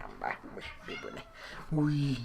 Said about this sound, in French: j'ai un chat qui vient dire bonjour